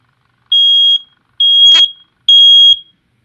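A household smoke alarm sounds three loud, piercing electronic beeps in an even pattern, each about half a second long with short silent gaps between, close and alone, with a brief click during the second beep.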